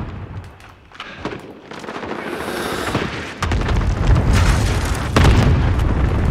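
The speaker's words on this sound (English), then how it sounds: "Enemy cluster strike incoming." A cluster strike in a Modern Warfare video game: heavy explosions boom and rumble in a long layered barrage that grows louder partway through, with a sharp blast near the end and no talk.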